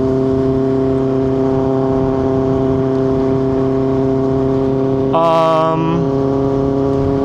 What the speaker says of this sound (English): This bike sounds fucking phenomenal.